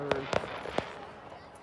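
Fireworks bursting outdoors on Canada Day: several sharp bangs and pops, irregularly spaced over under two seconds, moderately loud against background crowd noise.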